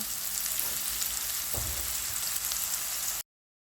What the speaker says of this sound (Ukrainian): і відразу всипаю цибулю та моркву. І смажу під закритою кришкою до готовності самої, самої цибулі та моркви.